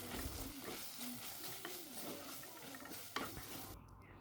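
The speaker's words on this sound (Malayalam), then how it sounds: "ഇനി തയ്യാറാക്കി വെച്ചിരിക്കുന്ന അരപ്പ് ഇതിലേക്ക് ചേർത്ത് ഒന്നുകൂടി ഇളക്കി കൊടുത്ത്" Masala paste being stirred into a drumstick fry in a pan, a steady scraping and gentle sizzle going on throughout, close and moderately loud with a few sharper knocks of the spoon.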